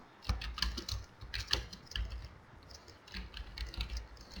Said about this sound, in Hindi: ये मैंने यहाँ पर एक लिस्ट टाइप कर दिया